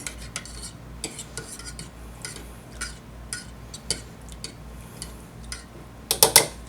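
A spoon scrapes and clinks against a pot while stirring a family-sized dump-and-go meal, with a run of irregular, close metallic taps and a louder cluster of clatters near the end.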